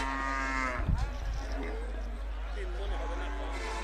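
A two-year-old Sindhi bull calf at a cattle market moos loudly and close, one long harmonic call at the start with a shorter low call after, over steady crowd murmur and background talk.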